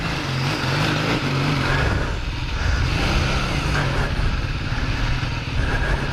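A 1980 Kawasaki LTD440 motorcycle with a fuel-leaking carburetor rides along in light rain, its engine droning close and loud with a steady pull, under continuous wind rush.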